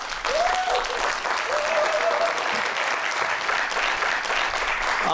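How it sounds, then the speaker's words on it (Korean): A studio audience on a Korean YTN DMB talk show applauds to welcome a young startup CEO: loud, dense clapping from many hands, with a brief thin whistle-like tone rising over it early on. "여러분들 큰 박수로 환영해 주시면 고맙겠습니다"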